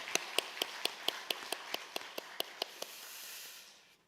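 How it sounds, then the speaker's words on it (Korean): A few hands in a church congregation clap in a steady, even rhythm for the Sunday school teachers, about a dozen crisp, quiet claps that thin out and fade into a soft room hiss. "감사의 박수 하겠습니다"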